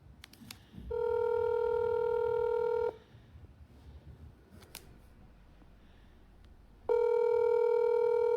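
A telephone handset gives off electronic tones while a number is dialed: a steady, fairly loud tone lasting about two seconds, a quiet gap with faint room noise, then the same tone returning near the end.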